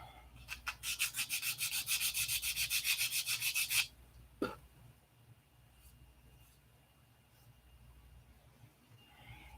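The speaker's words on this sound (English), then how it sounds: "Cut it and sand it." A wooden P-47 landing gear block is sanded by hand, a quick run of about twenty rhythmic scratchy strokes close up, then a single knock and faint workshop quiet.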